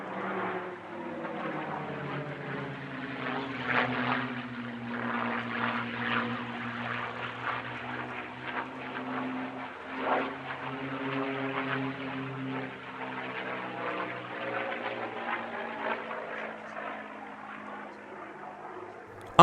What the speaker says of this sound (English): Dove of Peace, which performed a formation aerobatic routine of the highest quality alongside the PC-9